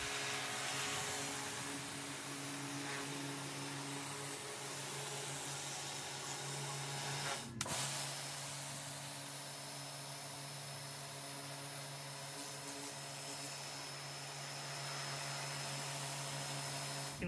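Karcher K2 pressure washer fitted with a stone blaster nozzle sprays hard onto a floor surface, producing a steady loud hiss and motor drone that continues throughout, with a brief abrupt shift partway through.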